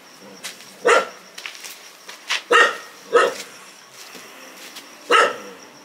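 A dog barks several times at irregular intervals, sharp and fairly close, with short quiet gaps between the barks.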